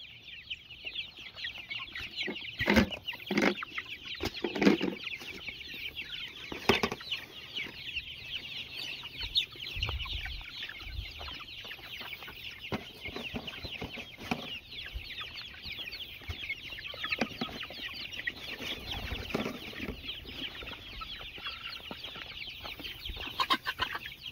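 Chickens cluck and chatter continuously on a farm, a dense steady chorus of many birds at moderate distance, with occasional louder squawks and small knocks mixed in and no talking.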